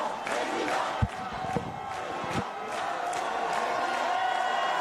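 A crowd of supporters cheering and shouting at a presidential campaign headquarters in France, a dense, continuous roar of voices with a few sharper bursts near the start.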